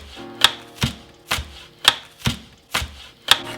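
A knife chops on a cutting board in seven steady, evenly spaced strikes, close and crisp, with nothing else in the background.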